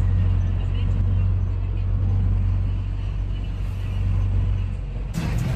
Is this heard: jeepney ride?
yes